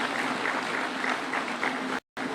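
Audience applause at a Kenyan political gathering with Ruto, steady dense clapping filling the space, cut by a brief silent gap near the end before resuming.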